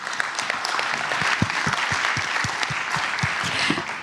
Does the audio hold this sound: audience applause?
yes